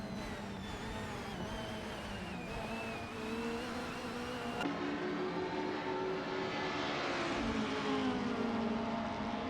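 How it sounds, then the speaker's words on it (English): AI-driven race cars lap BTCC Speedway in a racing simulator game, with engine drones rising and falling in pitch as cars pass and accelerate, a continuous moderately loud roar with no voices. "watching these AI cars compete in this racing simulator"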